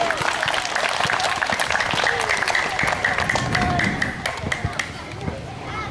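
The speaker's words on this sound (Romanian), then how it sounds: "vă rog aplauze" A crowd at a children's cup event in Sighetu Marmației claps in scattered, lively applause with murmuring voices mixed in, tapering to a few individual claps at the end.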